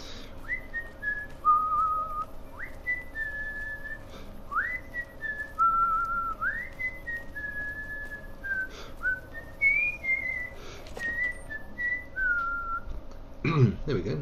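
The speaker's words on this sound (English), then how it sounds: "There we go, a little bit of a whistle for you." Someone whistles a slow, wandering tune of sliding notes in the video game Fallout: New Vegas, fairly close, over a low background hum with a brief clatter near the end.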